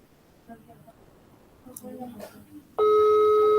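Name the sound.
telephone call dialing tone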